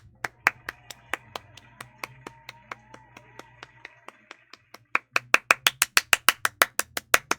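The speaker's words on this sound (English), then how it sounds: "I'm sorry, I clapped too loud." Hands clap steadily and rhythmically, close and sharp, the claps growing noticeably louder and faster toward the end over a low background hum.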